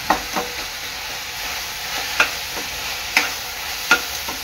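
Spoon stirring chopped vegetables in a pan for veg spring rolls, cooked only briefly so they stay crunchy: a few sharp scrapes and taps against the metal, spaced irregularly over a soft background hiss, with no voices.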